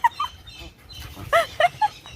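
A chicken gives a few short, scattered clucks close by, in quick irregular bursts against a quiet background.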